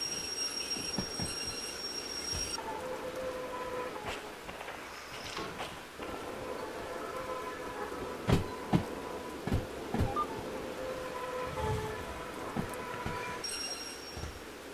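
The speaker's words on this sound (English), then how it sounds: "that's because we don't have traction on it. So it's sliding the wheels." Steel train wheels squeal and slide without traction on wet rails during rain-soaked shunting in a train simulation game, a sustained high whine with clanking rail noise and several sharp knocks over a rumbling background.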